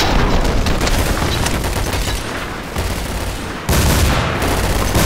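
Rapid bursts of gunfire in a shooter video game, loud and dense, with a sharp drop and renewed volley near the end and no talk.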